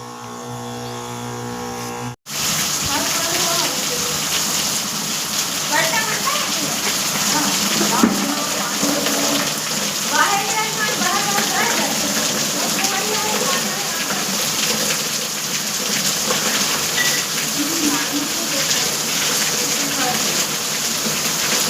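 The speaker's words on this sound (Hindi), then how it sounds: "हमारा गांव में बरसात चालू हो चुका है।" Monsoon rain pours steadily over a village, a dense, unbroken hiss that stays loud throughout, with faint voices now and then underneath.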